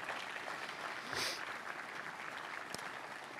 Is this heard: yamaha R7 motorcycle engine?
no